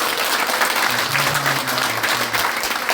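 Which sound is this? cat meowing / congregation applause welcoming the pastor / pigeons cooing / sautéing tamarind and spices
congregation applause welcoming the pastor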